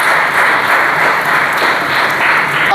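Dense, steady audience applause fills the hall at a result ceremony for a NEET coaching academy, loud and sustained with no gaps.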